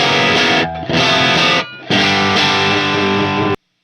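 A Fender guitar amp driven into raw, crunchy overdrive rings out in loud, thick sustained chords, with two brief dips where the notes are cut before the sound stops abruptly near the end.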